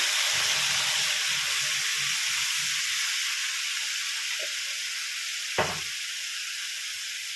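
Papaya curry hisses and sizzles loudly in the pan just after water goes in, a broad steady steam rush that slowly eases, with a couple of brief clunks and no talking.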